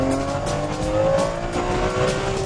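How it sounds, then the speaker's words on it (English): A Ferrari 599 GTB engine drones and rises in pitch as it downshifts and accelerates, loud and close, with a faint tire squeal. "If I drop this down a gear"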